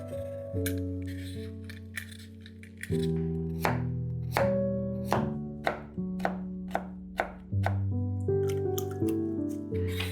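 Red beetroot shredded with a knife on a board for fish borscht, a run of crisp, evenly paced chops, close and distinct, with a gentle music bed underneath.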